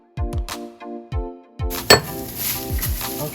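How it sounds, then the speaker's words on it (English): Eggs beaten in a bowl for a spinach and cheese quiche give several sharp, ringing clinks of utensil on bowl, followed by quicker clattering strokes, close and clear with no talking. "I'm going to go ahead and beat the eggs now"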